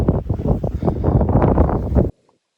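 Strong gusty wind buffeting a microphone on a hill hike at Roseberry Topping, a low rumbling roar that cuts off abruptly into near silence.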